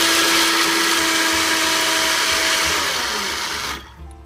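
An electric blender grinds whole garam masala spices with a loud, steady high whir that winds down and cuts off near the end.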